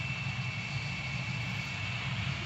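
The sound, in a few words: F100 jet taking off, from video game Gunship 3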